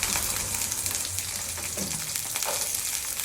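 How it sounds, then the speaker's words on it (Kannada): Onions and mustard seeds fry in hot oil for a tomato palak curry, a loud, steady, close sizzle that crackles continuously throughout with no one talking. "ಆನಿಯನ್ ಹಾಕಿ ನೀಟಾಗಿ ಫ್ರೈ ಆಗಬೇಕು."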